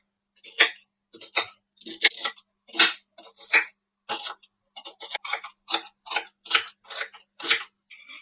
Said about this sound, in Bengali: এখানে দুটো মিডিয়াম সাইজের পেঁয়াজ নিয়েছি, এবার এগুলোকে কেটে নেব।